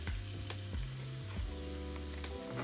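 Garlic and onion fry in oil in a pan for a Jamaican salt mackerel cook-up, giving a steady quiet sizzle with a few sharp crackles over a low background hum.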